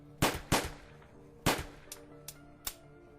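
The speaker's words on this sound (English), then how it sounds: "He aimed at Maverick's head and frantically pulled the trigger twice." Gunshots in Angels With Scaly Wings: several sharp, loud bangs ring out close by, two quick ones in succession, then another pair and a few lighter cracks spaced apart, each with a short decaying tail.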